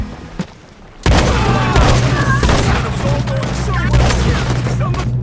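Gunfire from a semi-automatic shotgun in Red Dead Redemption 2 erupts after a brief quiet start, loud, dense booming shots continuing steadily with a voice talking over the action.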